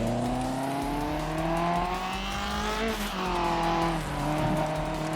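An open-wheel race car in an online racing game whines through rising and falling engine revs as it slides and loses traction, tires scrubbing beneath the steady engine tone, with no voices.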